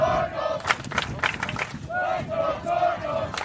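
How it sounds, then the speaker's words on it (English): Spectators at a girls 1A state high school soccer semifinal roar and shout in swelling waves, with whistles and scattered calls rising over the noisy stadium crowd. "Crowd getting loud once again."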